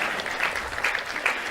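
A live comedy stage audience breaks into brief, dense clapping, a short burst of applause heard fairly close from the crowd.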